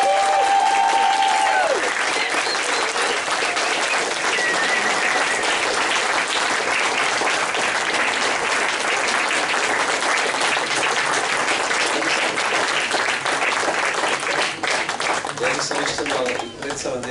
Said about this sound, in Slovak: A ešte raz obrovský potlesk všetkým týmto mladým.